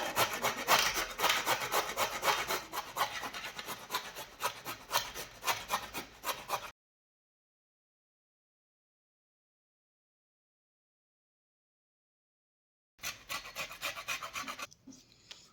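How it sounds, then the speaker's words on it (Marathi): A bottle gourd is being shredded on a fine kitchen grater. Rapid, rhythmic rasping strokes sound close up for several seconds, then stop for a silent pause before resuming briefly. No one speaks. "तो आता आपल्याला किसणीने छान असा किसून घ्यायचा आहे। मी बारीक किसणी वापरत आहे"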